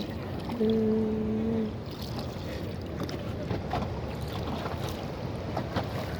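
A steady wash of wind and water surrounds a rowboat on the Mahanpur River; a short two-toned hum sounds for about a second near the start, then the broad rushing noise carries on alone.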